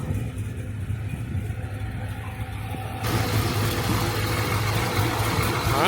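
A freshly rebuilt LS7 V8 in a Corvette Z06 idles with a steady low rumble that steps up to a louder, rougher drone halfway through, close and continuous with no talking.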